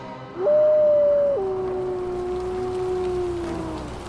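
A single drawn-out dog howl used as a horror story sound effect, rising briefly then dropping to a long sustained lower tone that fades, loud and close over a soft rain-like hiss.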